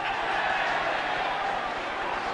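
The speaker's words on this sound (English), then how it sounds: "the crowd is so enthusiastic at this point in time that every time a penalty is awarded to Swansea, it sounds as if they've scored a try" Enthusiastic rugby crowd at a Swansea versus All Blacks test match in 1989, a dense, loud, continuous roar of cheering with no break.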